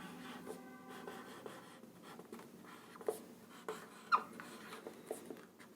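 Pen writing out an atomic number on paper or a board: quiet, close scratchy strokes in short bursts with small taps, no voice over it.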